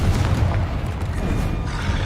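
Bombarda or Confringo spell explosion in the Hogwarts Legacy video game, a dense, loud, sustained booming rumble with no clear gaps, close and alone.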